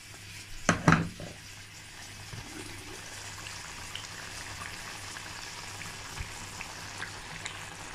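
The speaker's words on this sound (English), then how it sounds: "So I'm going to boil it till the water is dry." Food bubbles and simmers steadily in a pot, a soft continuous boiling hiss after a couple of sharp clanks of cookware.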